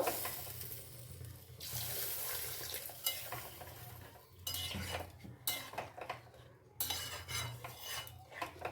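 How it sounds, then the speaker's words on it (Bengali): Hot water poured into a cooking pot for dim dhoka gravy, a rushing, splashing pour with bursts that start and stop, plus light clinks of a utensil against the pot and no talking. "একদম গরম জল এর মধ্যে আমি অ্যাড করে দিচ্ছি।"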